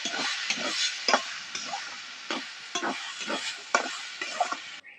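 Masoor lentil paste being stirred and fried in a pan, with repeated scraping strokes over a steady sizzle, close and fairly loud, no talk.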